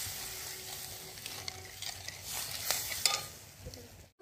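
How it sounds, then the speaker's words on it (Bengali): Curry broth in a pan over heat, a quiet continuous bubbling sizzle with occasional soft stirring clicks, close and alone without speech. "এই ঝোলটাকে প্রথমে খুব ভালো করে আগে ফুটতে দেবো"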